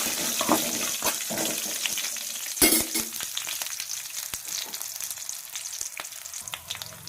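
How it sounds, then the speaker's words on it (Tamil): Green chillies, garlic and ginger sauté in a pan for a bottle gourd chutney, giving a close hissing sizzle broken by a few loud clattering knocks and some watery splashing. "பச்சை மிளகா பூண்டு இஞ்சி சேர்த்துக்கலாம் லைட்டாக கொஞ்சம் வதக்கணும்"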